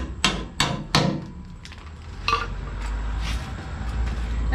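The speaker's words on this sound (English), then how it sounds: "let me go out there and tap the bolt in with a hammer." A hammer taps a bolt into a Benson 524 trailer during a shock change, a quick series of sharp metal taps, three close together and then a few lighter knocks, over a low background hum.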